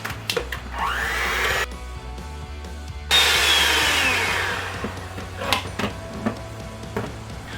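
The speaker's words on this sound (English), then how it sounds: "Now we're just going to mix these for a few minutes on high." Electric hand mixer beating two eggs with two tablespoons of sugar on high speed, a steady motor whir that shifts pitch partway through, with clicks and knocks of the beaters against the bowl.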